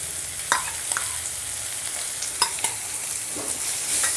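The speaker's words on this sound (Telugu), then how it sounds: "ఇది కొంచెం వేగిన తర్వాత అల్లం వెల్లుల్లి పేస్ట్ యాడ్ చేయాలి." Ginger garlic paste frying in a pan for a mutton tripe curry, a steady bright sizzle with occasional clinks and scrapes of a spoon stirring, close and without talk.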